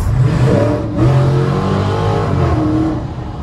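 A Dodge Challenger R/T Widebody roars through a tunnel, its V8 revving hard with a deep, booming, echoing growl that rises and dips over a few seconds.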